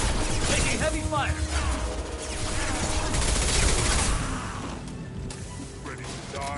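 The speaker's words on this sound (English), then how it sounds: "Taking heavy fire." A Mass Effect 2 battle roars with continuous heavy gunfire, crackling bursts and impacts. The noise is dense and loud throughout and eases slightly near the end, with a voice talking beneath the din.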